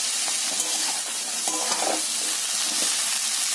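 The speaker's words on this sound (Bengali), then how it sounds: "এবার এর মধ্যে দিয়ে দেব এই কেটে রাখা কুমড়ো শাক।" Chopped pumpkin greens stirred into frying potatoes and chilies in a pan: a steady, loud, close sizzle with continuous scraping and tossing throughout, no voices.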